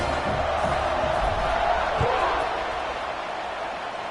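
A packed football stadium crowd roars in a steady, loud wash of cheering as the teams line up for kickoff, with faint shouts rising above the constant din.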